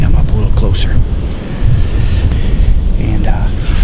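Strong wind buffets the microphone at a Michigan public-land deer hunting spot, a steady, loud roar of low rumble and hiss that barely lets up, with gusts rising and falling throughout.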